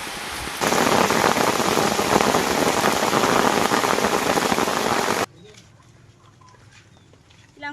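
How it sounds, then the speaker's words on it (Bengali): Heavy midday rain pours down in rural Sundarbans, making a loud, dense roar that ends abruptly, leaving quiet ambience with faint bird sounds. "এই দুপুর দুপুর কিন্তু আবার বৃষ্টি এসে গেল"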